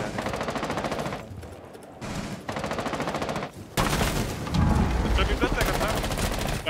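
Rapid automatic gunfire rattles in a round of Rainbow Six Siege, several loud, close bursts of fast shots separated by brief gaps, with heavier impacts near the end.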